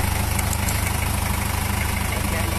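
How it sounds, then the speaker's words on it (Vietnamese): A Japanese Iseki tractor's diesel engine idles close by, a steady, even low rumble with a regular pulse that holds for the whole stretch without any revving. "Ô, máy nổ êm quá."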